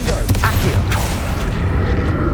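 A Confringo fire spell exploding in Hogwarts Legacy, a loud booming blast with rumbling low-end and a few sharp crackles over roughly two seconds.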